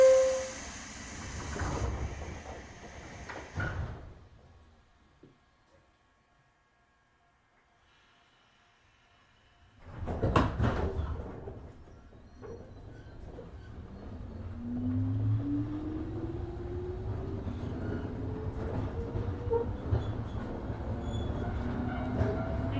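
A JR 103 series 1500 electric train runs on the Chikuhi Line: loud door and departure noise, a brief near-silence, then a strong surge as it pulls away, settling into steady rolling rumble with a rising motor whine.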